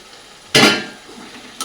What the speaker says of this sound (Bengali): এবার সমস্ত ভাজাগুলো আমি এর মধ্যে দিয়ে দেবো